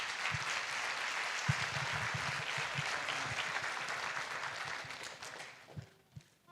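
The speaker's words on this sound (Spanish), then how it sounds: "Muchas gracias. Un aplauso." Audience applause at a conference talk, a soft, even wash of clapping with occasional low thuds that holds steady for about five seconds, then thins out to a few scattered claps and shuffles.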